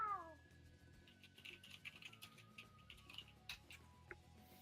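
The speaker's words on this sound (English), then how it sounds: "As Aurora summons a swarm of cats." A swarm of cats summoned by the character Aurora in the video game Hero Factory meows faintly and quickly. Their cries are scattered over a soft bed of game effects and light chirps, with no voices.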